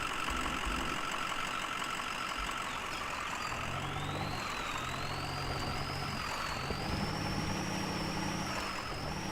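A Chevy Duramax diesel truck engine in the Spin Tires off-road game idles with a constant drone, then climbs into light revs with a whining rise in pitch partway through, continuous and fairly close, with no voices.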